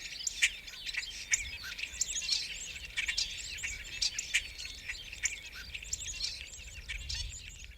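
Birds chirp and tweet in quick, overlapping bursts against a quiet outdoor background in wild mustang country in Nevada, moderately distant and fairly soft.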